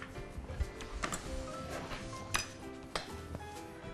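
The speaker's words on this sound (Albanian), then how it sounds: "Tani marrim një lugë. Po, për të përzier." A metal spoon clinks and scrapes against a glass pitcher while stirring sangria, giving irregular sharp taps and light tinkling over a quiet kitchen background.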